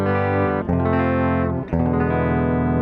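A sustained electric guitar chord rings thick and saturated through a Boss DD-7 delay pedal, a single mono guitar, restruck once or twice and held loud.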